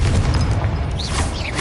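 A deep, rumbling magical blast from the Confringo spell in Hogwarts Legacy, a loud, sustained low boom with crackling debris and faint whooshing tones over it.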